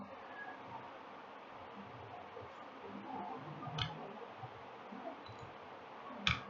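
Computer mouse clicks while filing a GST monthly return on an online portal: two sharp, isolated clicks several seconds apart, the second louder, over a faint steady room hiss.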